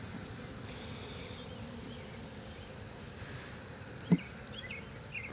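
Honeybees hum softly and steadily around an open hive during an inspection, a faint continuous drone with one brief knock partway through.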